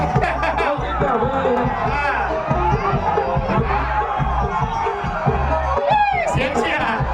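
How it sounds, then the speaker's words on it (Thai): Loud, dense crowd noise at a Thai boxing match between Khun Phrai and Phon Ekkhamklang, with shouting, whoops and cheering swelling throughout and music sounding in the mix. "เสียงเชียร์"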